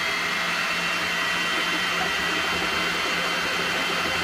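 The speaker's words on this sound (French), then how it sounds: "comme vous l'entendez, les ventilateurs se sont mis en route" Cooling fans on an Elegoo Neptune 3D printer run up into a steady, close broadband whir with a constant airy hiss and a low hum underneath, holding even throughout with no voices.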